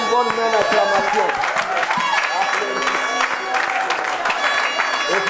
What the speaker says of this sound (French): Est-ce qu'on peut lui donner une bonne main d'acclamation?